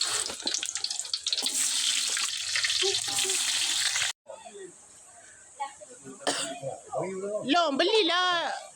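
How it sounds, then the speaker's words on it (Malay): Loud hissing sizzle of frozen curry puffs frying in hot oil fills the first half, then quieter kitchen sounds follow with voices talking near the end. "Kita nak goreng kari pap frozen yang kita bawa jauh daripada Damansara"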